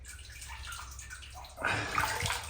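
Water pours into a household storage tank in the Philippines after the pump is switched on. A low, steady rush grows into louder, brighter splashing and gurgling partway through, with no voices.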